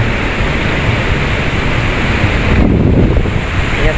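Strong sea wind blowing along a seaside baywalk in Binmaley, Pangasinan, a steady roaring broadband rush with surf mixed in, loud and continuous for the whole stretch with no voices.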